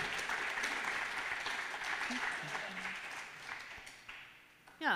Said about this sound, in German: Noch einmal unser riesigen Applaus auf der Bühne vom DGB.